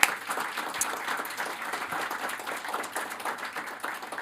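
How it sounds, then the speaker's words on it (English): A crowd at a startup demo day applauds with dense, continuous clapping that holds steady throughout, moderately loud and diffuse. "Really huge round of applause for them"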